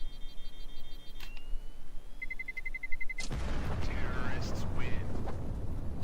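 A bomb detonates in Counter-Strike after rapid electronic beeping: a sudden loud blast at about three seconds that rumbles and roars on, with a commentator's voice over it.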